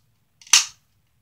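A toy gun fires once, a single sharp cap-gun crack preceded by a faint click, alone in otherwise silent surroundings.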